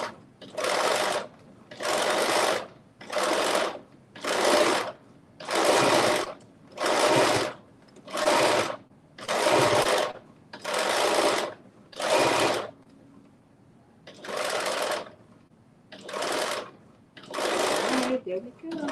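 Home sewing machine stitching the hem of a knit crop top, running in about a dozen close, loud bursts of steady whirring separated by short pauses, with one longer gap near the middle.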